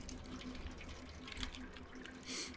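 Water runs and splashes in the Stray video game, a soft, continuous trickle with scattered drips and a brief louder gush near the end, heard alone without speech.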